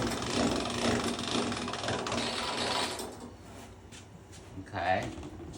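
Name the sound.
pasta dough rolled through a hand-cranked pasta machine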